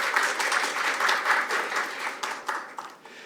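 An audience at a National Assembly debate on construction safety policy gives sustained applause to a lawmaker being introduced, a bright, even patter of many hands that gradually thins and fades.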